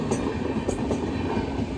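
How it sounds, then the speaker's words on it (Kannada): A train rolls through a railway station platform, a steady rumbling roar with faint rhythmic clatter of wheels, fairly close and continuous. "ಫೈನಲಿ ಟ್ರೈನ್ ಬಂತು."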